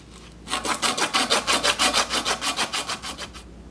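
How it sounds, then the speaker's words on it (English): A damaged copper pipe is sanded by hand to prepare a patch repair, a close rhythmic scraping of about fifteen quick, even back-and-forth strokes, with no talking. "we're going to repeat the same process by sanding down the area we want to patch."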